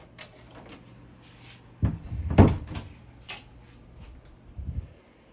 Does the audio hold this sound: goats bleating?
no